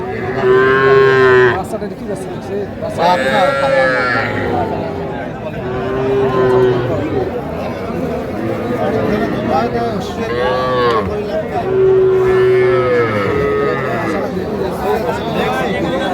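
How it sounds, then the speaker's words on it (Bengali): Young bull calves at a cattle market in Faridpur give repeated loud moos at intervals, close by, over a constant hubbub of people talking and bargaining. "ষাঁড় বাচ্চা"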